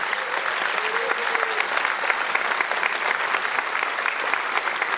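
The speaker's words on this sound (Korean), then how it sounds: "다시 한번 대통령님께 큰 박수 보내주시기 바랍니다." A large audience applauds the newly sworn-in 21st South Korean president at the inauguration ceremony, dense continuous clapping filling the space for several seconds with a faint murmur of voices beneath.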